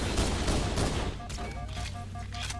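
Rapid bursts of gunfire in the first-person shooter Halo: Combat Evolved, a loud, dense fusillade that eases into sparser shots over electronic tones and a steady hum.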